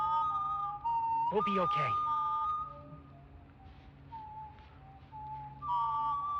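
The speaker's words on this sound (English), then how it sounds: "As long as they are whistling, they're not hunting." Strangers in a forest-trails video game whistling a slow, wavering melody, clear tonal notes rising and falling with pauses, while a person speaks briefly over them.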